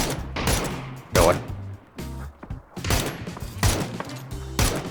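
Gunfire in the battle royale game PUBG comes in short rapid bursts of automatic shots, fairly close and punchy, separated by brief pauses while players talk.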